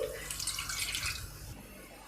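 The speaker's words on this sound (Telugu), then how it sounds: "నిమ్మకాయ సైజ్ అంతా చింతపండు తీసుకోండి తీసుకొని వాటర్ శుభ్రంగా కడిగి" Close splashing and swishing of water as tamarind is rinsed by hand, a short burst of sloshing that tapers off.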